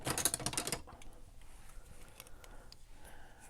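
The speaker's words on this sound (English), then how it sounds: "Let me use my bigger scissors." Large scissors cutting paper for a handmade baby boy junk journal, a loud close burst of rapid snipping at the start, then faint scattered crisp cuts and rustles in a quiet room.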